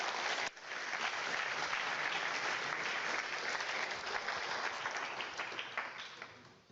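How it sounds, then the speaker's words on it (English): An audience at a design reveal event for an electric superbike breaks into warm applause, starting abruptly and holding steady and full for several seconds before tapering slightly. "Give them a warm applause."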